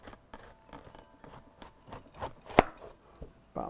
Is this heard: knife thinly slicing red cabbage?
yes